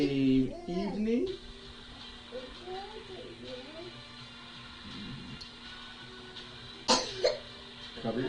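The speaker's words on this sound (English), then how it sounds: "Cover your cough, please." A single cough at an Edmonton Oilers–Colorado Avalanche livestream, a short sharp burst near the start with a second smaller one later, set against a quiet room and a soft voice speaking.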